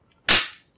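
A Walther PPS pistol slide with no magazine inserted snaps forward once, one sharp, loud metallic crack that rings briefly and dies out in near silence.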